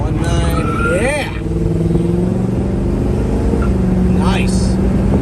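A 1967 Pontiac GTO accelerates hard through gear changes, engine roar rising and dropping at each shift, loud and close, with someone talking and cheering over it.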